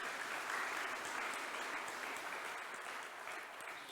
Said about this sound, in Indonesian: Mari kita berikan tepuk tangan sekali lagi.